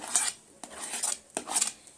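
Semolina is stirred with fried peas, carrots and beans in a wok, giving a dry, rasping scrape of spatula on metal in repeated strokes, close and fairly loud, with no voices.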